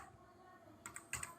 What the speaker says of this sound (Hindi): तो हम यहाँ पर डिडक्शन टाइप कर देते हैं। इसको थोड़ा सा मर्ज कर देता हूँ और यहाँ पर भी टाइप कर देता हूँ